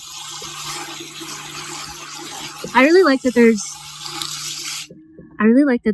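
Water sprays steadily from the multi-mode nozzle of a BougeRV portable propane water heater shower as a broad hiss that cuts off abruptly near the end, with someone talking over it.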